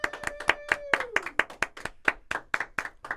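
A small podcast audience claps for comedian Brian Moses, founder of the Roast Battle and a Comedy Store regular: a few distinct hands beating a brisk, uneven rhythm close by, with a brief held vocal tone at the start.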